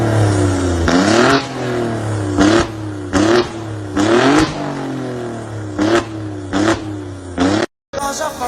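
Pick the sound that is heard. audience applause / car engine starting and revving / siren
car engine starting and revving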